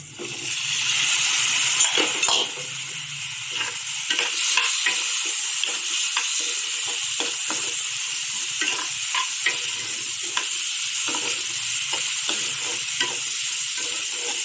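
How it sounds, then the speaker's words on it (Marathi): Potatoes sizzle steadily in a hot pan for a simple guar and potato dish while a utensil stirs and scrapes them, giving close, irregular clinks and knocks over the continuous frying hiss. "त्याच्यानंतर बटाटे टाकायचे."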